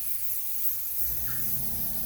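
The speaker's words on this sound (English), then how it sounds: "I'm going to spray it in 3 different patterns." Spray gun applying graphene coating to wheels: a steady, close airy hiss that runs continuously throughout, with no talking.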